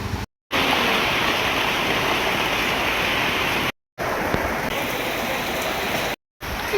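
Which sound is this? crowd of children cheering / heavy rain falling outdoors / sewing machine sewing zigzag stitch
heavy rain falling outdoors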